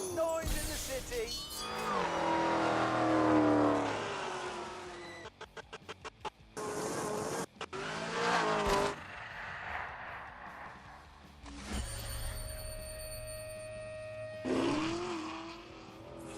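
A Hennessy-tuned Chevrolet Camaro with 1,000 horsepower roars in a racing video game, loud revving bursts broken by gear shifts and quick cuts, with tire noise and a brief sustained tone mixed in.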